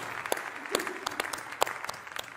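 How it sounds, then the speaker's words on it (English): Scattered applause from a church congregation welcoming online worshippers, with sparse, uneven claps at moderate distance and no one talking. "Let's give them a big round of applause."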